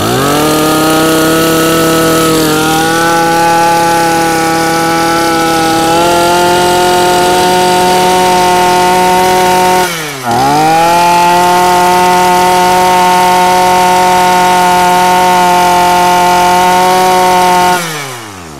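Maruyama 32cc Japanese brush cutter engine running after a pull start, a loud, buzzing two-stroke drone with strong harmonics that dips briefly around mid-clip and near the end, then recovers, with no talk.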